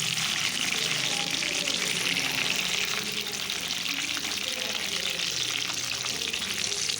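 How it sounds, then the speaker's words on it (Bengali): Whole eggs frying in mustard oil for a spicy egg curry, a loud close bubbling sizzle that runs unbroken, with stirring and slight watery spatter. "সরিষার তেলে আমি সব ডিম এক এক করে ছেড়ে দিচ্ছি।"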